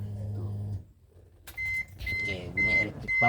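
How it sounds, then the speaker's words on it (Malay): With the ignition key turned on, a Proton Gen2's electric fuel pump gives off a steady whirring hum in short bursts, heard beneath a man's speech and near the car. "Bunyi electric pump pun ada kalau kita on kunci."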